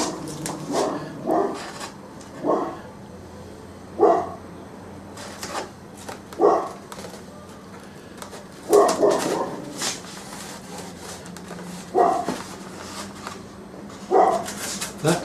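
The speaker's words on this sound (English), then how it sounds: "That's my next door neighbour's dog." A next-door neighbour's dog barks in short repeated bursts, roughly every two seconds, at moderate distance over a steady low background hum.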